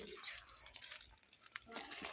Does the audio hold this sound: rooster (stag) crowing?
no